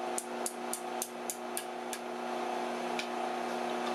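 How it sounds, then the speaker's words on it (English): A very light hammer striking hot steel while forging a drive hook heated by induction, seven rapid sharp ringing taps in quick succession, then a lone tap after a pause over a steady background hum. "I'm using a very light hammer with rapid but light blows"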